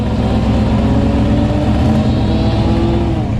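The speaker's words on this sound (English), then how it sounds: "This Mustang with a 521 cubic inch engine, and he's got open pipes, so he's loud." A Mustang's 521-cubic-inch big-block engine with open exhaust pipes roars loud and deep at a dragstrip, a rough rumble holding high revs throughout without pause.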